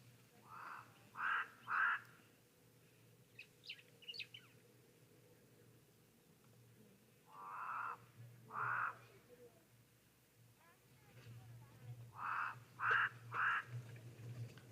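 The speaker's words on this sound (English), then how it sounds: "Crows are calling as per usual." Crows caw at a sunny waterhole in north-central Namibia, where oryx come down to drink. The calls come in three clusters of two or three harsh caws each, moderately near, over a low steady background hum.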